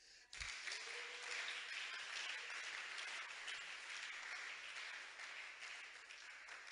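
A church congregation applauds in praise during a prophetic worship service, a dense, steady wash of many hands clapping that fills the whole stretch at moderate loudness.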